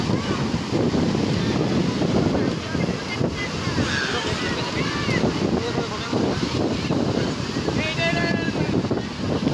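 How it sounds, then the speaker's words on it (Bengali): Sea waves break on Puri beach in a continuous loud roar of surf, buffeted by wind noise, with indistinct voices mixed faintly into the wash. "ঢেউ আসছে ঢেউ আসছে।"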